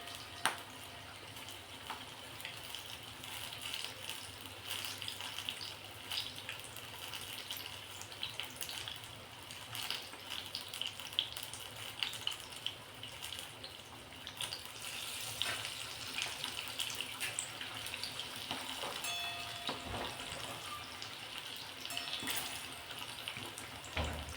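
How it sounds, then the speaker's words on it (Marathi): Chillies fry in hot oil with a steady, close sizzle that carries on alone, broken by occasional pops and the clatter of a utensil. "ह्या आपण बाकीच्या सुद्धा मिरच्या टाकून घेणार आहोत तेलामध्ये आणि मस्त तळून घेणार आहोत"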